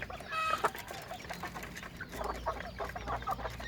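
Chickens cluck softly and intermittently, fairly faint, with scattered bird calls in a quiet farmyard.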